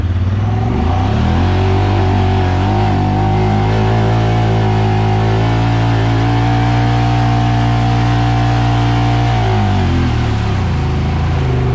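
A truck on 33-inch Terache Stryker tires revs hard and drives across a front yard, a loud sustained engine roar that climbs and holds, then shifts pitch near the end.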